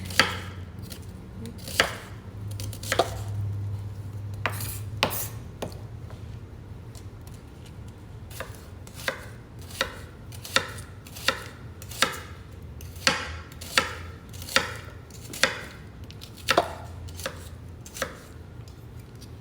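Green peppers, red pepper and onion being chopped on a cutting board, close sharp knife thuds in a steady, fairly regular rhythm that quickens toward the end, with no talking.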